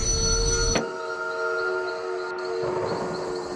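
A train in a video game rumbles with sustained whistle-like tonal hums, a sharp burst at the start cutting to a steady rolling drone that swells again near the end, no speech.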